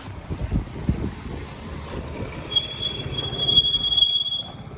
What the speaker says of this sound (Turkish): Duyduğunuz ıslık sesi fren balatalarının beni değiştir diye çığlık atmasıydı